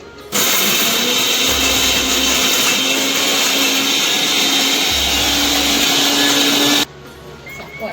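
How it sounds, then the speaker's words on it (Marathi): A kitchen mixer grinder whirs loudly and steadily for about six seconds while grinding a masala paste, then cuts off abruptly into quiet. "आई मस्त मिक्सरमध्ये वाटून घेते."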